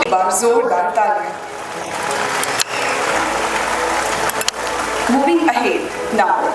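Audience applause at a school annual day, a broad wash of clapping swelling through the middle and mixed with voices and a loud speaking voice at either end.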